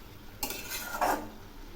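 A spoon stirs jute leaf greens frying with onion in a pan: one short scraping pass of under a second over a soft sizzle, close and fairly loud, with no talking.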